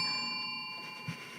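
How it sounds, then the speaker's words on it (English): A single doorbell chime rings with clear sustained tones that fade gradually, followed by a faint soft knock near the end. "That was a doorbell."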